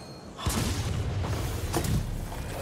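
Fireworks in Marvel's Spider-Man 2 burst in a few heavy booms and thuds over a dense, noisy rumble, with sharp crackling hits spread across the moment.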